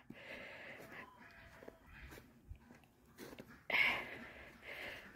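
Chickens and ducks in a side-yard pen, soft clucks and scattered fowl calls at a distance, with a louder squawk near the end over faint rustling and footsteps.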